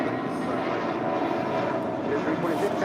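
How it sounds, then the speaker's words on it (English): A Qantas Airbus A380 airliner arriving at LAX gives a steady, loud, broadband jet roar that holds level throughout without any break. "That is Qantas, the A380, just arriving"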